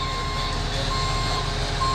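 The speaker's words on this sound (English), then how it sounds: "Well, the cement truck finally showed up," A cement truck reverses at a concrete slab pour, its steady backup beeper repeating over a constant low diesel engine rumble, close and loud.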